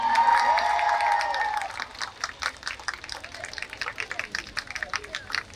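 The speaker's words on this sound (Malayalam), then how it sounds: "ഒരു നല്ല കൈയടി കൊടുത്തേ" A voice speaks briefly, then scattered, uneven applause rises from an audience welcoming a chief guest at a hospital celebration day, with individual claps standing out against a quiet background.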